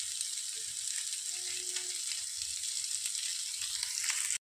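Paneer tikka frying in desi ghee on a tawa, a steady bright sizzle with small crackles that continues evenly before cutting off abruptly.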